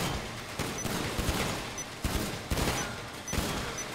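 Rapid volleys of gunfire aimed at targets in a GTA Online shoot-off, crackling in dense bursts with sharper shots recurring at regular intervals, no talking.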